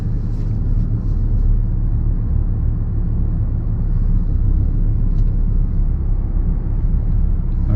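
A Lamborghini Huracan Spyder idles while the driver shifts into reverse, a loud, close, steady low engine rumble that holds evenly throughout with no distinct revs.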